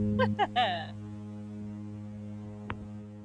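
A Holland America cruise ship's horn on the Nieuw Amsterdam sounding one long, deep, steady blast that drones throughout, after brief voices cheer at the start.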